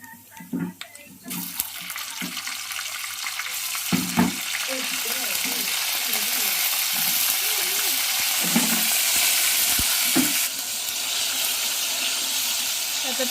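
Readymade ginger garlic paste hitting hot oil for a tempering, a few clatters at first, then a loud, steady, close hissing sizzle that runs on without talk.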